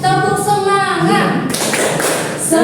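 A group of schoolchildren performs a rhythmic patterned clap in a classroom, a series of sharp taps under an adult voice and children chanting along.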